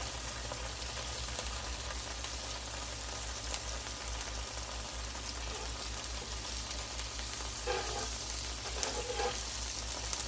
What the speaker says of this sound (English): We'll go ahead and put down a tablespoon of butter.